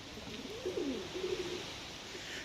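Pigeons in a loft, a soft cooing call rising and falling over a quiet background, faint and alone.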